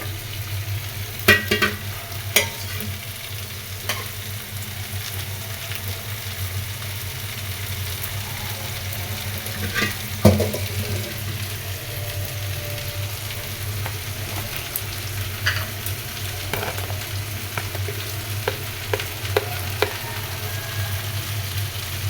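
Green vegetables fry under a lid in a covered pan, giving a soft, even sizzle over a low steady hum, broken by occasional small clicks and taps, close by with no speech.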